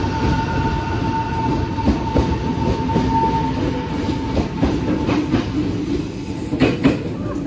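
An electric commuter train (KRL) rumbles past close by near Kampung Bandan station, Jakarta, with a steady heavy roar, clattering wheels and a faint electric hum, no voices over it.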